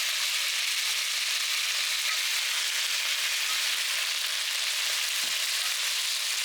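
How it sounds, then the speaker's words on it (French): Beef pieces frying in a pot for a Flemish carbonade, a steady, even sizzle throughout with occasional faint stirring scrapes, close and unaccompanied by talk. "Et je continue à touiller, à touiller, à touiller."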